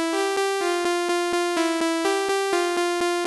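Ableton's Analog synthesizer plays a quick repeating pattern of short bright notes, evenly spaced about five per second, loud and up front with a buzzy, harmonically rich tone.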